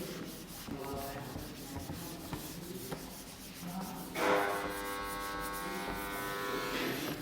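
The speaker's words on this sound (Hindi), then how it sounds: "रब कर रहे हैं दोस्तों, ऊपर तक रब कर रहे हैं" Chalk or a duster rubbing across a classroom board during a Class 12 physics lecture, a steady scraping friction that runs continuously for several seconds with no speech over it.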